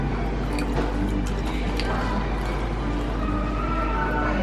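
Butterbeer is poured from up high, giving a steady liquid splash and trickle with small drips, steady throughout with a low background hum and faint voices.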